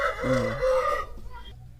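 A Kadapa rooster, a white cockerel offered for sale at a farm in Badvel, gives a short, loud, close crowing call that trails off within about a second.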